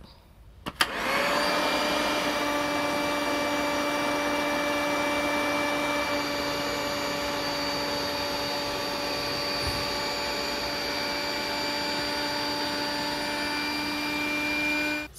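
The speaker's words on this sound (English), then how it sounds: "to inflate it, just turn the knob towards the top" Battery-powered pump built into an AirBedz XUV air mattress switches on abruptly and runs with a steady, loud motor whine and airflow hum, close by and unbroken for the rest of the span, with no talking.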